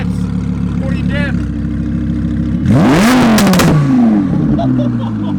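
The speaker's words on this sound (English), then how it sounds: "You gotta give me some revs before you dip." An Audi R8 V10 Plus idles with a low rumble, then revs hard in a couple of rising and falling sweeps before settling back, loud and close, with voices in the background.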